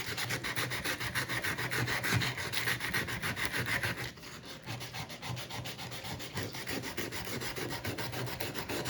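Close, continuous rhythmic scratching of 120-grit sandpaper rubbed by hand over wood, rapid back-and-forth strokes with a brief lull midway, no voices.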